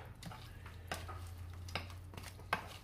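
A utensil stirring a microwaved vegan delivery meal in its tray, soft scraping and squishing strokes with a few sharper clicks against the container, close and quiet over a low background hum.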